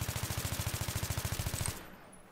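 An AEK rifle fires a full magazine in Battlefield 3, a fast, even string of about twenty-five shots in steady rhythm that stops abruptly, leaving a brief fading tail.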